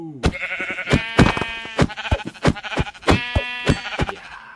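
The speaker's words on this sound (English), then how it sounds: "Oh, sheep. Sheep, yes." Sheep in the Minecraft video game bleat in a series of sharp, repeated calls, loud and close, in two clustered bursts with no talk.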